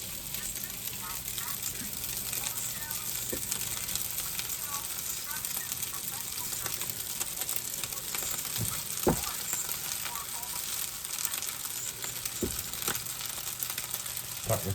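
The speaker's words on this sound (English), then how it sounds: "It's a day and a half old rice, and I'm just gonna dump it in the pan." Day-and-a-half-old rice fries in a pan with a soft, steady sizzle and hiss, with a few faint stirring knocks, under occasional quiet talk.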